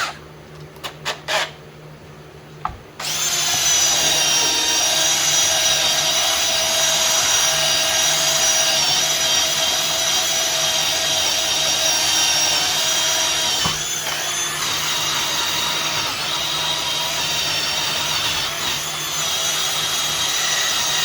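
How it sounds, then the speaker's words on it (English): Polishing wheel buffing an aluminum cylinder head, a steady loud motorized whine starting after a few brief clicks and running continuously to the end, with a slight dip in tone partway through. "time to change the wheel"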